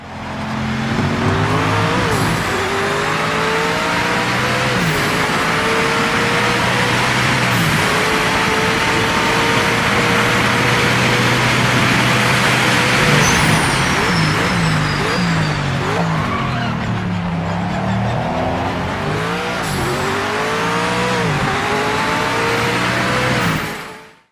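A loud V8 racing car engine in the video game Project Motor Racing roars and revs continuously, with shifting pitch as it accelerates, tires squealing and skidding throughout.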